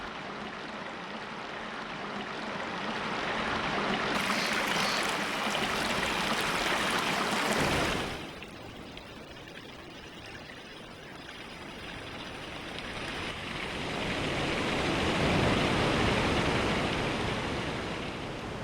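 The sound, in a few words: spring water flowing from rock into a river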